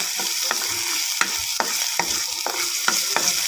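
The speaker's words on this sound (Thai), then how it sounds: "ใส่น้ำมันพอใส่น้ำมันเสร็จแล้วก็ใส่กระเทียมได้เลยนะ" Steady hot-oil sizzle of garlic frying in a hot wok, with repeated scraping stirs of a utensil at a regular pace, close up, no talking.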